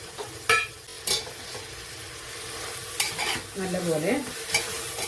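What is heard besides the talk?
stirring chopped vegetables sautéing in a pan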